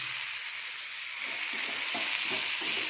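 Onions fry in a hot pan, a steady bright sizzle hissing continuously with soft stirring scrapes joining in toward the end, close and even, with no talking.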